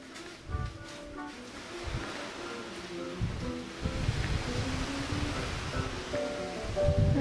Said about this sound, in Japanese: ああ潮の音が、